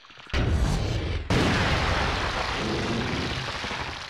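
Heavy gunfire in the horror video game Michigan: Report From Hell, a loud blast bursting in near 0.3 s and a second sharp shot around 1.3 s, each with a long booming, noisy tail that fills the gaps.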